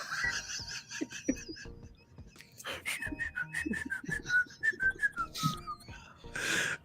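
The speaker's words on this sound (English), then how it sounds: "whistling the Peace to the chat" A person whistles a melodic tune in a lively hip hop livestream setting, the sliding notes rising and falling clearly over background chatter and a burst of noise at the end.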